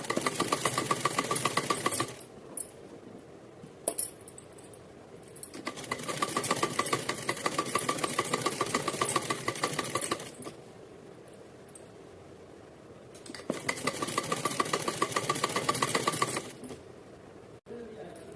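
A sewing machine stitches gota lace onto a Radha Rani dress in three long rapid whirring bursts separated by quieter pauses, with someone talking in between.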